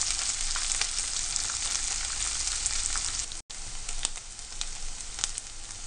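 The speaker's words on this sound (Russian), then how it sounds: "Затем добавляем лук и жарим все вместе до его мягкости" Onion sizzling and frying in a pan alongside sausages for a sauerkraut dish, a steady close crackling hiss that continues throughout with one brief dropout midway.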